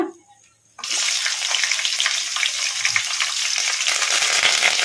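Green chilies and curry leaves frying in a pan of hot oil on medium flame, a sudden loud sizzle bursting in after a quiet moment and then holding as a steady close crackle.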